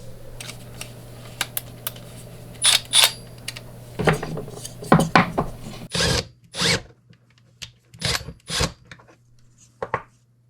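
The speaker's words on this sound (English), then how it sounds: "Let's get this hole drilled and see if this will all fit." A power drill bores a hole through thin plastic for a DIY phone mount on a Jeep JKU, heard as several short, loud, whining bursts separated by quiet pauses.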